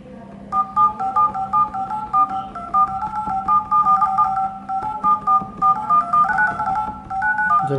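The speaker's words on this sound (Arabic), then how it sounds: "ده بالنسبة للاتصال." A high-copy Samsung Galaxy Tab 10.1 3G clone gives off a rapid string of beeping telephone dialing tones, evenly spaced and fairly loud, over a faint background hum.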